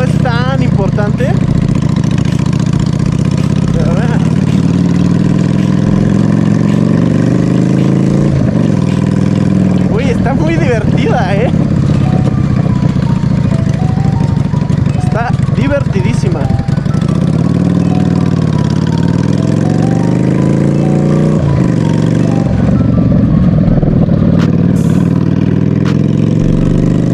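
A Yamaha V-Star 650 bobber motorcycle engine idles steadily for a long stretch, with brief revs rising and falling now and then, while a person talks over it.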